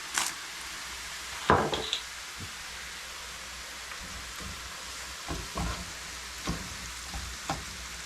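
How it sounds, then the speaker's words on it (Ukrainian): Soft, steady sizzling of garlic and onion frying in a pan, with a few clacks and scrapes of stirring now and then, no talking. "жарився чесничок, то жарився"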